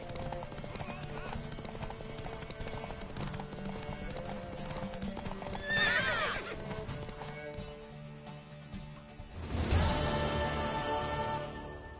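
Rhythmic hoofbeats of a galloping horse with a whinny in the video game The Witcher 3, mixed with game music and voices.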